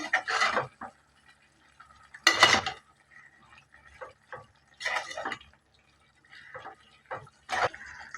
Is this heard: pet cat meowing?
no